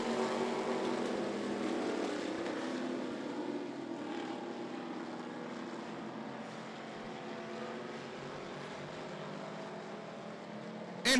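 Race cars running under green flag at I-75 Raceway: a steady, fairly distant engine drone that holds at an even level throughout, with no clear separate pass-bys.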